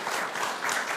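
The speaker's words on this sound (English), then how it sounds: "Can you give them a round of applause," Steady applause from a school audience fills the whole moment, a dense wash of many hands clapping at once with no break.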